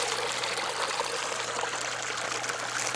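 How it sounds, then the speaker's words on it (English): A creek runs steadily beside a pit-shelter campsite, a close, continuous broadband rush and trickle of flowing fresh water that carries on alone without voices for the full few seconds. "I'm right in front of a creek."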